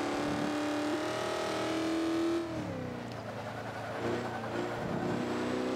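A 1995 Ford Mustang in Forza 5, B Class build with an upgraded camshaft, holds a loud steady engine drone that drops in pitch and roughens midway, as if shifting or lifting off throttle, with no talk over it.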